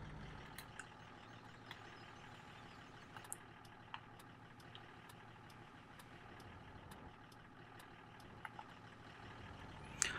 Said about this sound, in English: I love the fact that this has a diesel engine noise